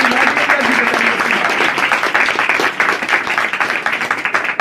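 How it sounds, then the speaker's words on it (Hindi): A congregation at a Christian worship gathering breaks into loud, dense applause for a testimony, fast overlapping claps sustained for several seconds close to the listener. "इस गवाही के लिए जोरदार तालियां"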